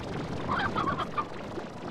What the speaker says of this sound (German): Ein Huhn läuft da noch rum.